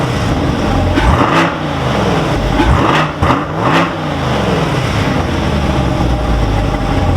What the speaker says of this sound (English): It's a V8 engine, and you just hear that brum, brum, brum, brum, brum.